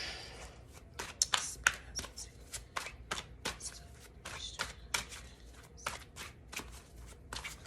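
Tarot cards being shuffled repeatedly, a run of crisp riffling flutters and taps close by, steady through the whole stretch with no talking.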